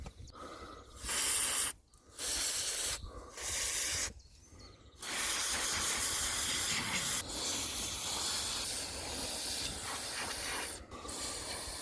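Aerosol can of lube sprayed onto seized bolts on a boat engine: three short hissing bursts, then one long continuous spray, close and loud, with no talking.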